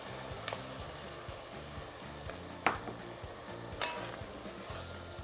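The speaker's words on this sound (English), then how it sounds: "Now we're going to add in ½ cup of vinegar." A pan of cranberry pickle with green chilies sizzles and fries steadily as vinegar goes in, with a few sharp clinks of a utensil against the pan over the constant crackle.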